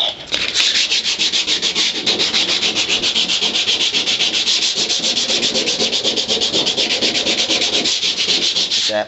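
Steady, loud abrasive sanding grinds rust and paint from the floorpan of a 1962 Ford Falcon, a continuous rasping drone with a fast even ripple and no pauses or voices.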